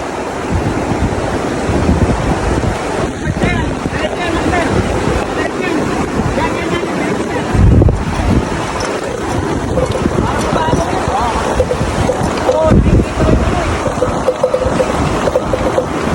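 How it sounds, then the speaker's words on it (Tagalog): Strong waves break along a shore in the Philippine countryside, a continuous loud wash and roar buffeted by heavy wind noise on the microphone, with people talking over it. "malakas ang alon dito."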